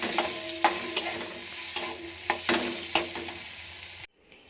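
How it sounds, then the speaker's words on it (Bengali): Leftover rice and egg frying in a pan, a steady sizzle with repeated scraping stirs of a spatula, close up, ending abruptly as the heat is cut. "এবার আমি এটা একবার নেড়ে নেবো, দিয়ে গ্যাসটা বন্ধ করে দেবো"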